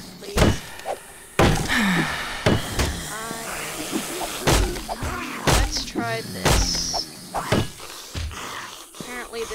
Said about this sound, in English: I'm gonna have to bust down the door.